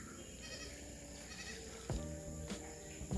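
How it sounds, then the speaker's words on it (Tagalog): Goats bleat on a farm in Bulacan, several wavering calls rising over steady outdoor background noise, moderately close but not loud. "ang daming kambing"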